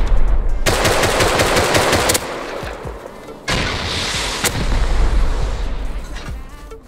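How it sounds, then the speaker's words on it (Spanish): Loud bursts of automatic gunfire and booming explosions from the video game Rust, two dense volleys separated by a brief lull, close and harsh, with no talk over them. "En este momento escuchamos explosiones cerca"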